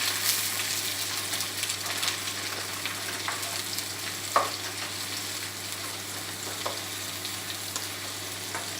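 Sliced onion sizzles in about two tablespoons of oil in a wok over high heat, cooking for chicken vindaloo. A moderate, even frying hiss runs throughout with light stirring ticks and one sharper knock midway.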